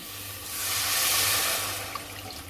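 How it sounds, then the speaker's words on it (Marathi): Water poured from a glass into a pan of fried masala for dal, a brief continuous rushing splash that swells and fades, with no talking. "तेवढं पाणी घालते मी"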